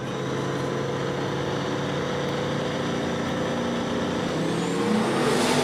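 A Chevelle and a wagon launch side by side off the line at a street drag race, a loud sustained engine roar building steadily with no voices.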